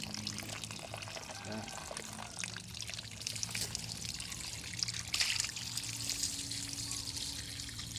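Water sprays and pours steadily while lotus tubers are washed and lifted out, a continuous rushing trickle with someone talking over it throughout.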